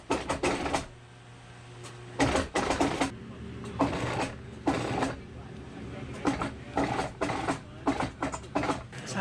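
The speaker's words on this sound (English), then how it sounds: "So how old is your sewing machine?" An early-1950s sewing machine stitching patches runs in repeated short bursts of rapid mechanical clatter separated by quieter pauses, close by, with a steady low hum between runs.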